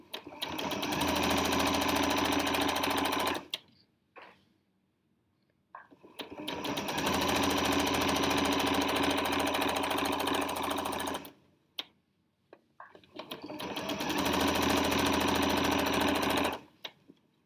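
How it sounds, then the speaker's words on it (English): A sewing machine stitching binding onto a quilt runs in three long, steady bursts of fast mechanical whirring, each stopping abruptly, with short quiet pauses and small clicks in between. "You're going to sew until you get to the corner."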